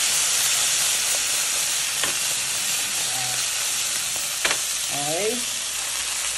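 Steak fries with garlic in coconut oil in a pan that is not stainless steel, a dense, continuous close-up sizzle with a few utensil taps and a brief spoken word partway through.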